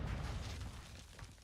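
A Semtex grenade goes off in a video game, giving a low, muffled rumbling boom that fills the moment and slowly tails away, fairly quiet and heard alone.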